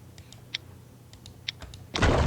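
A door being built in the survival video game Last Island of Survival: a few faint, crisp clicks, then a louder, noisy thud-like burst that closes the clip.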